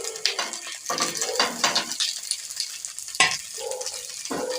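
Fish paturi parcels are laid one by one into very hot oil in a pan, giving a loud, crackling sizzle with bursts of spattering and a few utensil clinks, close and without talk.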